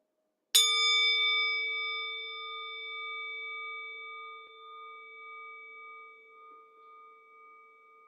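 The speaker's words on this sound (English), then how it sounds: "I'm gonna ring the bell" A single bell struck once to close a labyrinth walk, ringing out loud and clear with a bright attack and a long, steady, slowly fading sustain with no talk over it.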